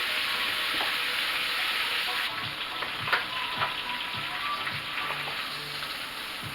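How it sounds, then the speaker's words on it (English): Chicken cooking in a frying pan, a soft steady sizzle with light crackle and a few faint utensil clicks and stirs, quiet and close, no talk. "I'm going to flip over and cook this side for a couple minutes."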